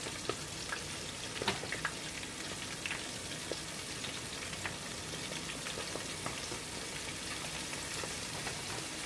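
Shrimp frying in hot oil for po boys, a steady close crackling sizzle with scattered pops running throughout, no voices.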